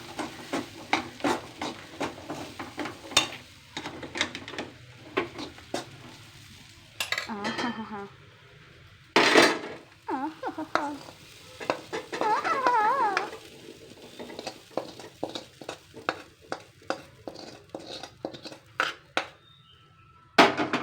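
Green peas and egg kothu porotta stirred in a pan, with repeated metal spatula clinks and scrapes in irregular bursts over a light sizzle, close by, and occasional brief voices in between.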